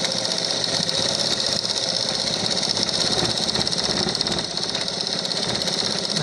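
A home sewing machine runs with a steady, dense mechanical whir and fine rapid clatter, close and continuous throughout with no pauses.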